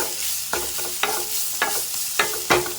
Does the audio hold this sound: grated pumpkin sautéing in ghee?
yes